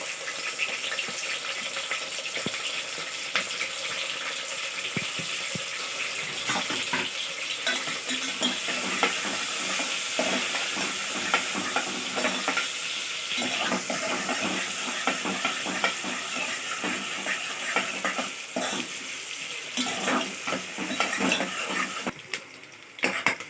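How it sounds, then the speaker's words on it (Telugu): Goat head curry ingredients fry in hot oil in a pot over a high flame, a steady dense sizzle with scraping and stirring running continuously and close up, with no talk. "చూడండి, వేగుతున్నాయి, మంచిగా వేగినాయి."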